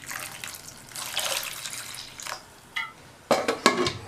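Water poured into a pressure cooker holding trimmed green plantains until they are submerged, a steady splashing pour with a few sharper splashes near the end.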